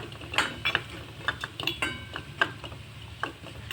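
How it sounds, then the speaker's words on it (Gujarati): Spices, turmeric and salt among them, mixed with a spoon in a small dish for Rajasthani split moong dal, heard as a run of light, close metallic taps and scrapes in an irregular rhythm. "હવે આપણે પહેલા બધા મસાલાને મિક્સ કરી લેશું"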